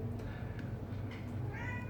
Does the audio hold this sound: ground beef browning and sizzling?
no